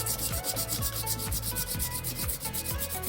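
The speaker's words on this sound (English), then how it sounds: "you're rubbing the surface" A spoon rubbed firmly across paper laid over an inked relief block during hand printing, a continuous close scraping rub with rhythmic back-and-forth strokes and no voices.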